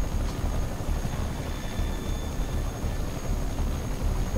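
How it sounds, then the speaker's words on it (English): A fast helicopter in a Spider-Man video game drones steadily with a dense, rumbling rotor wash, loud and constant throughout, with no talk over it. "That chopper is real fast."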